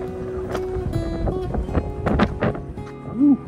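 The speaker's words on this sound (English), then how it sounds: "Ooh, windy." Wind buffets the microphone outdoors at a safari park, a low rumbling gusty roar that swells and dips, with a faint voice-like sound near the end.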